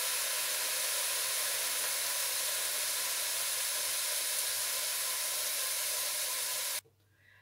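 Keema, minced meat, fries in a pan with a loud, steady hiss and sizzle that runs unbroken for several seconds and then cuts off abruptly, leaving near silence.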